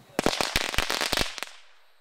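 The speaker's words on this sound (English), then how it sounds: "That's a grenade." Grenade-style firework bursts into a rapid, loud string of sharp cracks and pops for about a second and a half, then the noise cuts off and a faint fading tail remains.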